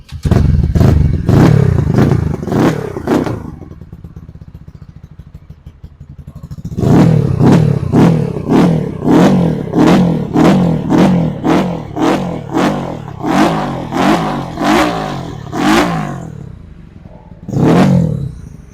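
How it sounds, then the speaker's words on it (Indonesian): A 2021 Kawasaki D-Tracker supermoto with a Scarlet carburetor revs in sharp, loud bursts up close: a cluster of quick blips, a lull at idle, then a long run of rapid throttle stabs and one final rev. "itu tadi suara sound dari motor The Tracker"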